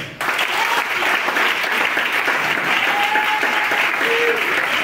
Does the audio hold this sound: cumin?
no